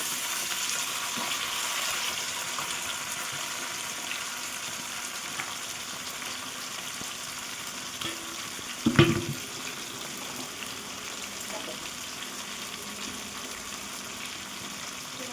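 Mutton hits browned onions frying in a pan, giving a steady, even sizzle throughout with a brief louder clatter around the middle.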